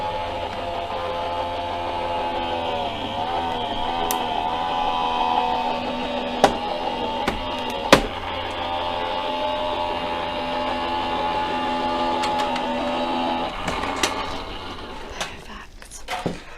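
A craft cutting machine cuts several layers at once with a steady, whirring mechanical hum and occasional sharp clicks. A person speaks over the machine noise.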